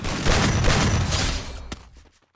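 Dense burst of gunfire in the mobile game Free Fire, loud and close, rattling continuously for about a second and a half before one sharp shot cuts through and the noise fades out.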